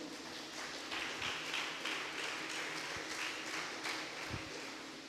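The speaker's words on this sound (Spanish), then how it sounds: "Dale fuerte aplauso al Señor." A church congregation applauds, a faint, steady wash of many hands clapping that carries on throughout with no clear talk over it.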